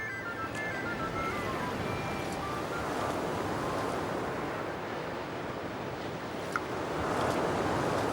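Ocean surf rolls in a steady broadband wash, with waves breaking continuously at moderate level and the roar swelling slightly toward the end; wind adds to the noise and no one speaks.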